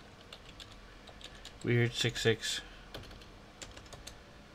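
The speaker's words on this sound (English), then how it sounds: "I'll type it in the chat" Light, scattered clicks of typing on a computer keyboard, close and fairly quiet, with a brief spoken word breaking in near the middle.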